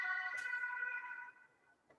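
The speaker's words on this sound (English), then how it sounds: "I'm sorry for the siren." An emergency vehicle siren sounds outside, a loud steady wailing tone that holds for over a second and then fades away quickly, with no talk.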